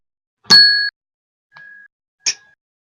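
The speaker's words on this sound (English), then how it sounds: "I don't know why I ring my bell." A small hand bell rings clearly three times in a quiet room: a bright sustained ding, then a softer short ring, then a final quick clink that fades.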